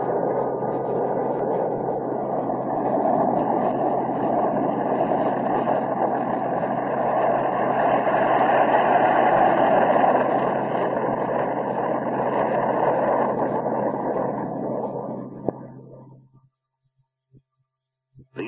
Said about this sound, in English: Taxi and turning on soft ground is accomplished with ease because the F-5A is equipped with nose wheel steering